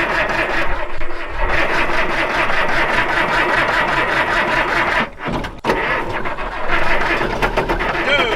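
An abandoned 1948 vintage bus engine cranks over and over as it struggles to start, loud and close, with a brief drop in the churning partway through.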